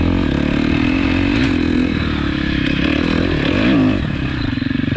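KTM 250 XC-F dirt bike engine under riding load, loud and close, a steady buzzing four-stroke drone with rev swells and a brief climb near the end, alone with no talk.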